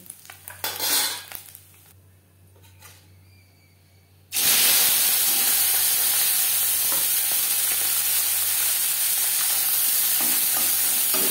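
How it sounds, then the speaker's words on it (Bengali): Fish frying in oil in a kadai: after some light clinks and handling noises, a loud dense hissing sizzle erupts and holds steadily to the end. "পরের মাছ একইভাবে ভেজে নেব।"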